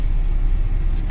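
Car driving through heavy town traffic in Bhusawal, a loud, steady low engine and road rumble heard from inside the vehicle, with no talking.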